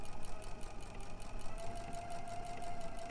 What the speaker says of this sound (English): I am on a machine that I don't typically sew on